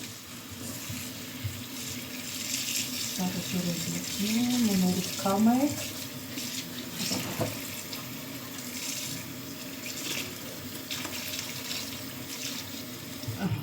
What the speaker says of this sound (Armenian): Իսկ ես տապակելու վրա սարի ջուր եմ լցնում